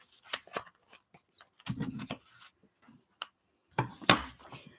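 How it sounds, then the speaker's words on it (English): Scissors snip through a piece of wallpaper for a craft journal page, with several short crisp cuts and rustles spaced out across the clip, close and fairly quiet. "I'll cut a piece of this wallpaper."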